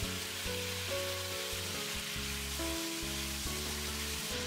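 Marinated chicken wings and their marinade sizzling in hot oil in a pan, a steady dense hiss under a faint background hum with no talking.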